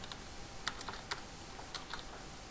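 Keystrokes on a computer keyboard while code is entered for an ASP.NET MVC dashboard login feature, a quiet scatter of soft, uneven clicks with a few sharper taps, heard alone.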